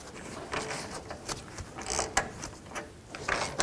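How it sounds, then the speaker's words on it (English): Bolts are threaded back in by hand on a 1997-2004 Dodge Dakota front sway bar: a series of small, close metallic clicks and ratcheting scrapes in irregular bursts, with no talk. "Now you can reinstall the rest of the bolts."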